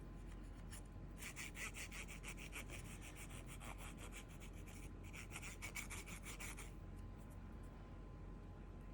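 Soft, quiet scrubbing strokes from an eraser rubbed back and forth over the contacts of an NES cartridge, coming in two bursts of rapid rhythmic rubbing over a faint background hum.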